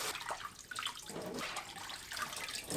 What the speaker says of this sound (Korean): 삶은 고구마 줄기는 바로 찬물에 여러 번 헹궈 열기를 식혀줍니다